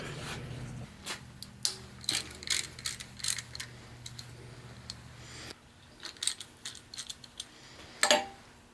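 Ratchet wrench removing the two thermostat housing bolts on a Ford 172 engine, with repeated clicking ratchet strokes and metallic clinks at close range in a quiet workshop, ending in a louder clank.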